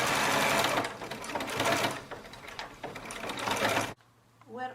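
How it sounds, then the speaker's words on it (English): A sewing machine runs in close, loud bursts as it zigzag-stitches stretched elastic, the rapid mechanical chatter speeding and slowing before stopping abruptly, followed by a brief quiet voice. "I'm going to sew with zigzag."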